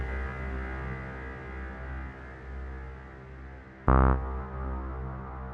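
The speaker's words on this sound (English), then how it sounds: "This reverb's great." GForce Oberheim OB-1 software synth with reverb decay and size set to full: a sustained, droning chord washes on steadily, then a brighter struck note swells loud near the end and rings into a long, smeared tail.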